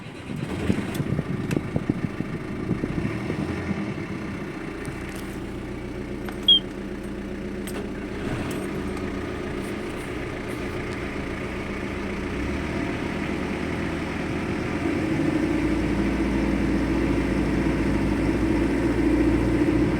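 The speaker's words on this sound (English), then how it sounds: "This is engine start." Twin 1986 Volvo TAMD 30 diesel engines of 110 horsepower aboard a 1986 Fairline Corniche cruiser start up and settle into a steady low rumbling idle, the drone growing fuller and louder toward the end.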